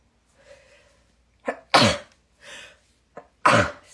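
A person coughs several times in short, sharp bursts, close by, with brief quiet gaps between the fits.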